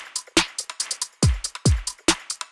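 A stacked trap music loop plays through loop software, with sharp percussive hits, hi-hats and two deep booming 808 bass drops in a steady rhythm, loud and clear with no talking.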